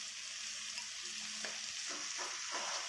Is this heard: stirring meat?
yes